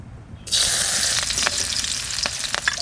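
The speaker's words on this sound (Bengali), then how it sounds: "সরষের তেল দিয়ে দিলাম কড়াইতে। লঙ্কা দিয়ে দেবো তেলের উপর।" Chili hits hot mustard oil in a kadai, bursting into a loud, crackling sizzle that carries on steadily with scattered sharp pops, with no talk.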